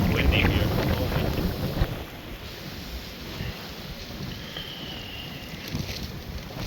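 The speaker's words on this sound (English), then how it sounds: "It's quite windy here at the moment." Strong wind blows outdoors at a homestead during a winter storm, buffeting the microphone with a loud, rough rumble that eases after a couple of seconds into steady gusting.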